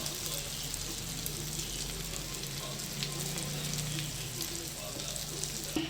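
Small pieces of meal maker and egg omelet fry in oil, giving a continuous, fairly quiet sizzle that holds steady, with no one speaking.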